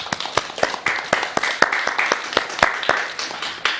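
A small group claps and applauds together at close range, with uneven sharp hand claps forming a steady burst that lasts a few seconds and has no voices over it.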